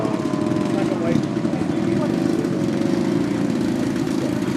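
Steady droning buzz of a radio-controlled model airplane engine in flight at a model aircraft show, continuous and fairly loud with a low steady pitch throughout.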